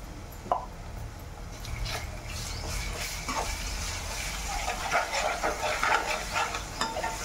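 Ginger and shallot paste fries in a pan while being stirred, giving a steady low sizzle broken by scraping spoon strokes and light clatter, fairly quiet and close.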